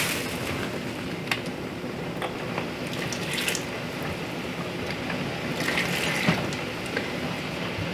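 Glass canning jars sit in a large pan of water, giving a steady watery bubbling wash with faint clinks and rattles scattered throughout, moderately loud and continuous.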